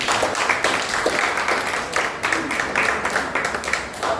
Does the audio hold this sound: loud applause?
yes